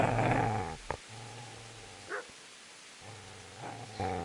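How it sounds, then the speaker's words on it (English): A dog in the Kingdom Come: Deliverance video game growls low and steadily, with a few short barks and yips breaking in. It sounds close and is heard alone. "Get away, you mutt!"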